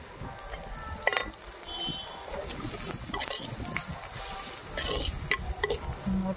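Prawns frying in a pan with turmeric and salt, a soft continuous sizzle with occasional clinks and stirring scrapes, heard close and fairly quiet.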